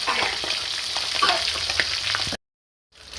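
Sprats fry freshly in a pan, giving a loud continuous close-up sizzle with bursts of spattering, then a sudden cut to silence before the sizzle returns faintly at the end.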